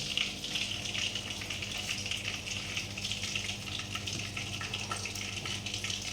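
Fennel seeds fry in hot oil with a dense, continuous hissing sizzle, close and steady throughout, with no talk over it.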